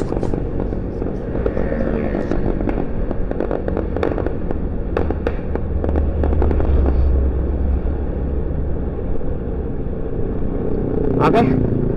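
Firecrackers go off nearby in sharp scattered bangs and crackles over the steady rumble of passing road traffic, with a bright burst of crackling near the end.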